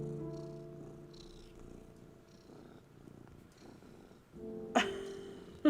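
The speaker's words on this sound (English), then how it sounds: "Can you guys hear him purring?" A cat purrs softly and steadily on a person's lap indoors, a low continuous rumble with a couple of brief louder rustles near the end.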